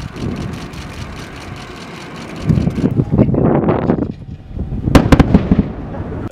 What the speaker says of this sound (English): there will be a loud sonic boom that will occur right about the time of landing